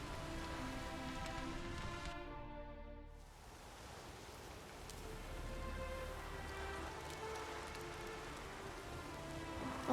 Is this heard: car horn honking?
no